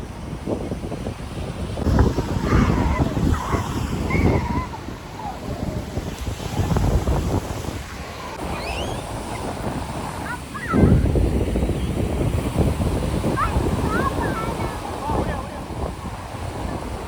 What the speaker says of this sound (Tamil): சரியான காற்று அப்படி அடிச்சிச்சு